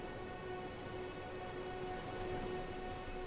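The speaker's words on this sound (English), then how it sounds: "Where it is still raining." Steady rain falls in the Elden Ring video game as a constant soft hiss, joined by a faint sustained tonal drone and no other sounds.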